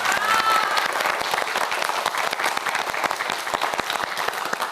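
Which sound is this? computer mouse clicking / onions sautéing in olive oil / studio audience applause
studio audience applause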